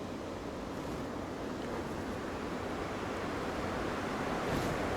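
Rushing water from the waterfalls at Burgess Falls or Rock Island State Park in Tennessee makes a constant, dense roar that stays steady and fairly loud throughout, with no voices.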